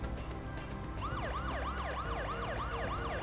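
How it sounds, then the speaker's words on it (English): Wailing police car sirens in the video game Parasite Eve rise and fall in a steady, repeating sweep that starts about a second in and continues loud over a dense bed of game music and engine noise. "Oh boy, we got the sirens going off."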